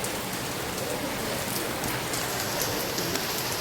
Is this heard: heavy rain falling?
yes